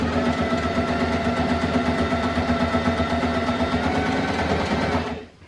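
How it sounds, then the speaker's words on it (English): A sewing machine stitches the seam of a drawstring bag made from a duvet cover, running at a steady, fast mechanical whir with a rhythmic needle chatter for about five seconds before stopping abruptly. "you're going to sew, continue to sew all the way along until you get to about 2 inches before the end of that seam"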